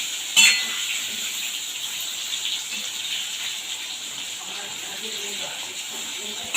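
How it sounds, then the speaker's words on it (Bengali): Sliced pointed gourd fries in hot mustard oil, a steady moderate sizzle with a brief clatter at the start and a voice speaking over it. "বেশ ভালো করে লাল লাল করে ভেজে নেব"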